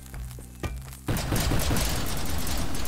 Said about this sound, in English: Sending out spikes from all of the supplementary explosions.